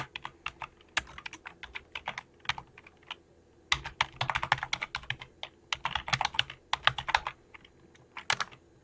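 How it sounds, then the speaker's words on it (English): Typing an FTP command on a computer keyboard: close, crisp key clicks in uneven bursts, sparse at first and then a denser flurry of rapid strokes, with no voices. "I'm going to type FTP and then that address like this."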